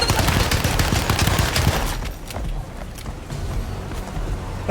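Rapid bursts of gunfire in the video game Alone in the Dark crackle loudly, dense at first and then thinning into scattered shots with a lingering rumble.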